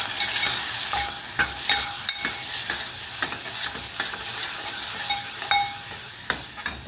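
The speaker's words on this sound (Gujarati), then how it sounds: "બધું મિક્સ કરી દઈએ" Spiced green peas with turmeric and masala fry in a pan while a spoon stirs them. Close, repeated scraping and clinking strokes ride over a steady soft sizzle, with no voices.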